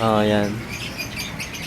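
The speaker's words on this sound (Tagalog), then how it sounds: "kung maririnig natin yung huni ng ibon na yan" Small birds chirp in a garden in Vigan, Ilocos Sur, giving quick high twitters over steady outdoor ambience after a short stretch of someone talking at the start.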